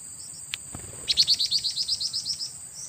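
A wild bird caught by trapping gives a quick run of about a dozen sharp chirps after a click and a dull thump, near and alone over quiet background hiss.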